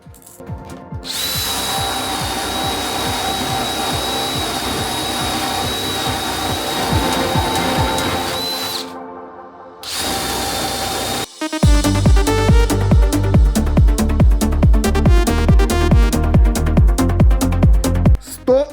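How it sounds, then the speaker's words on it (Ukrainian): DeWalt cordless drill driving a 20 mm spade bit, compared against a second DeWalt DCD100 model: a loud steady motor whine runs for about eight seconds, stops briefly, then restarts for a second long, harsher bore with a rattly grinding texture. "Тестувати буду на перовому сверлі 20 мм."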